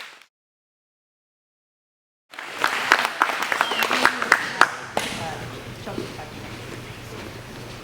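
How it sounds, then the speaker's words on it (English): A group claps in unison at a Brazilian jiu-jitsu charity seminar: a sudden burst of close hand claps breaks a silence and lasts about two seconds, then dies away into quieter room noise with a voice speaking. "on three, everybody clap"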